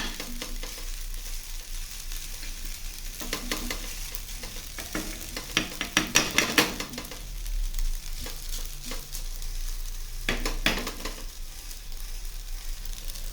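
Rice with salt and chili being stirred in a frying pan makes scraping, rustling strokes in uneven bursts over a steady low sizzle, close and moderately loud.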